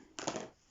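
A single short clatter of scissors dropping onto a hard surface, close and brief.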